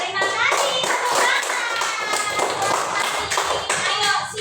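Children clap their hands in a classroom, with dense, rapid claps that run steadily throughout and rise above the children's voices and chatter.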